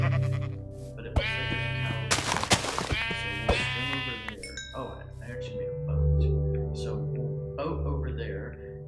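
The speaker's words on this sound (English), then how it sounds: "That's a sheep, so I don't have to worry about that." Sheep in a dinosaur-themed survival video game, bleating loudly several times in close succession, with someone talking in between the calls.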